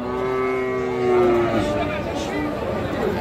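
A cow at a cattle market selling Friesian and cross-breed bulls and calves gives one long, loud, close moo, with crowd chatter murmuring behind it.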